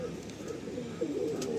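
Racing pigeons of a tiger-line breed coo softly in a loft, a few low, rolling calls close by against quiet background noise.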